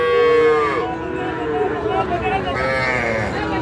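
Cattle and calves mooing at a livestock market, several drawn-out moos rising and falling over a steady crowd murmur, with people talking nearby.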